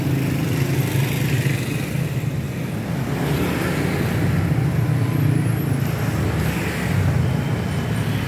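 Steady, dense road traffic rumbles past near a railway crossing on a busy alternative route in the afternoon, a continuous wash of engines and tyres at close range without pauses.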